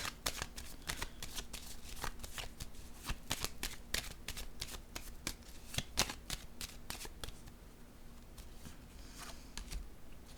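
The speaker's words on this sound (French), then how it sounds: "Attendez un peu, je vais piger une autre carte." Tarot cards riffled and shuffled in a rapid string of crisp, papery snaps, close and fairly loud, thinning out toward the end as a card is drawn, with no talking.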